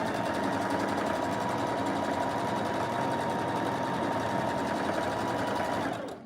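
A sewing machine stitches scrunchies in a continuous fast whirring run for about six seconds, close and alone with no talking, before stopping abruptly at the end.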